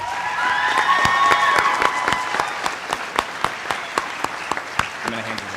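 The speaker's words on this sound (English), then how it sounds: "If you give one more round of applause for all of these who lettered." An audience at a high school fine arts night showcase and awards ceremony applauds steadily, with sharp individual claps standing out and some voices and cheers mixed into the sustained clapping.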